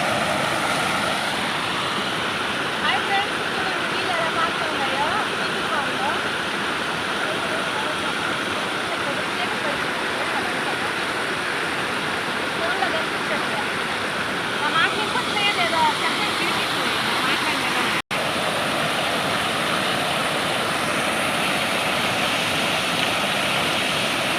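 A forest waterfall at Penchalakona roars in a steady, loud broadband rush of falling water that fills the whole scene without pause, close and dominant.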